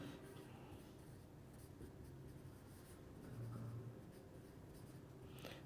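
A chemistry teacher writes on a board during a lecture, a faint, continuous scratching of marker or chalk strokes against a low room hum, with no talking.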